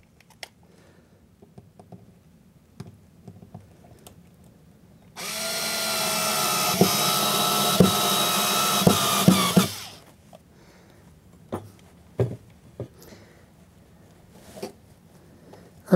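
Small screw driven into a Blue Point switch machine with an electric screwdriver, a steady close buzzing whir lasting about five seconds among light handling clicks and taps.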